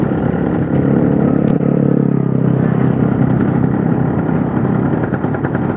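A Yamaha RX King motorcycle runs with a slipping clutch, a loud and steady two-stroke engine drone. A rough low rumble swells and then eases, and nobody speaks.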